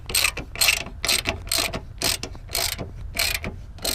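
Ratchet wrench tightening bolts on a strut tower brace on a 2005-2014 Ford Mustang, a close, loud run of quick clicking bursts, roughly eight strokes in steady rhythm with no talking.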